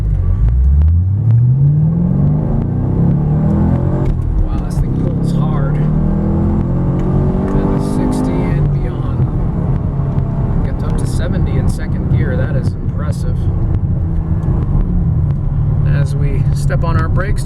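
A 2010 Chevrolet Camaro SS with a 6.2-litre LS3 V8 and six-speed manual climbs a hill with the air conditioning running, its engine a deep steady rumble with a rising rev at the start, heard from inside the car.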